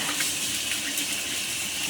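Water gushes steadily from a kitchen tap while hands are washed, a continuous close hiss of running flow with no break.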